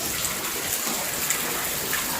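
Heavy monsoon rain lashes down in a steady, dense hiss as strong wind drives the water around, close and constant with no speech.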